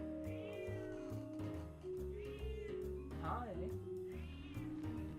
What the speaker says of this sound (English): my cat wants in on the Yap Sesh too.